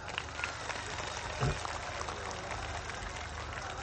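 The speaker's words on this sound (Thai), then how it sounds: "ปรบมือหน่อยครับ" A crowd at a Thai fanclub donation event applauds, a continuous wash of clapping hands with one brief louder burst midway, fairly close and steady.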